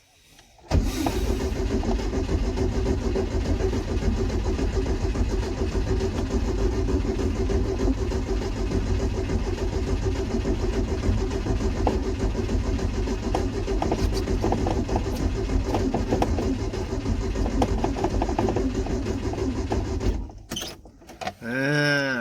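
A Datsun 120Y engine cranks continuously for about twenty seconds with a steady, rhythmic whirring churn but does not catch, then cuts off abruptly, followed by a few brief clicks.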